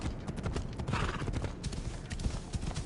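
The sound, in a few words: horse galloping in Assassin's Creed Odyssey, video game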